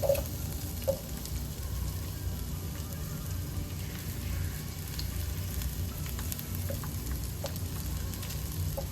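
A little onion fries in a pan with potatoes, producing a steady, moderate sizzle with scattered small pops and crackles across the whole stretch, no talking.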